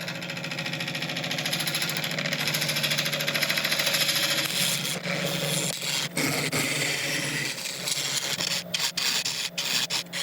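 A woodturning lathe flattens a resin and wood surface, giving a steady rubbing, rasping drone that breaks into intermittent scraping cuts and brief pauses toward the end.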